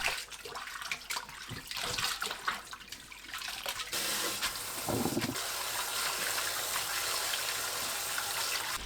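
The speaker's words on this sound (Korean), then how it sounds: "찬물에 헹굽니다. 4번에서 5번 헹궈주세요." Boiled gondre greens are rinsed in cold water, with a steady close stream of running tap water splashing and gushing, and a brief louder surge partway through.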